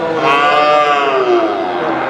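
A cow moos in one long, loud, drawn-out call close by at a busy cattle market in Paramakudi, alone without talk.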